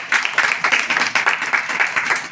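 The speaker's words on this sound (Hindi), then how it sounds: "एक बार जोरदार ताली बजाइए" Loud clapping from a church congregation during a Hindi sermon, dense and rhythmic with pulsing bursts, filling the whole short stretch with no voice over it.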